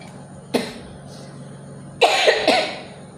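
A person at home coughs in three harsh bursts, one alone and then two close together, near and fairly loud over quiet room noise.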